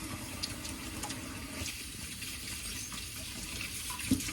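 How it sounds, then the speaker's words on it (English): Tap water runs steadily from a faucet into a sink while oily hands are washed after making a lemon meringue pie, a continuous close hiss with a small knock near the end. "now I need to wash my hands because they're all oily"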